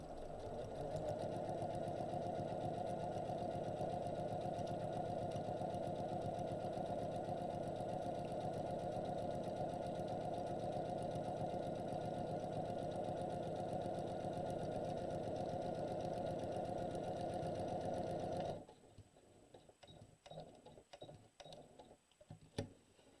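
A sewing machine runs steadily, stitching a paper-pieced quilt block, a close, even mechanical whir that holds for most of the stretch, then stops and gives way to a few quiet handling clicks.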